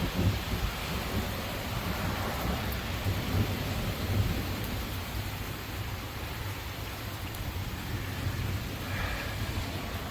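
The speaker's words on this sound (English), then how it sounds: "There you go, there's the thunder." Steady heavy rain pours throughout with deep rumbling thunder rolling underneath, a continuous dense wash of storm noise at close range with no voices.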